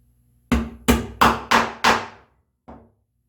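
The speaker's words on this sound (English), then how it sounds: "Now I'm going to take my chisel." Chisel struck into a knife line in walnut, five sharp mallet blows in steady rhythm, then a pause and one lighter final strike, close and clear in a quiet room.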